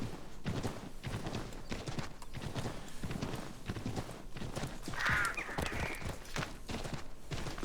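Hooves clip-clop at a brisk, steady gait in the video game Assassin's Creed III, loud and close. A brief horse whinny rises midway.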